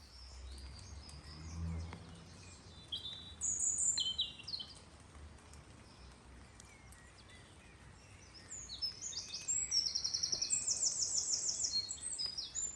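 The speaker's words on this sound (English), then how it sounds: "I've no idea what those birds are, but that is just, for me, so very tranquil and so peaceful." Birds chirp and trill beside the River Ecclesbourne, heard from a moored narrowboat: short bursts of high calls rise over a soft, steady outdoor hush, with a denser spell of song near the end.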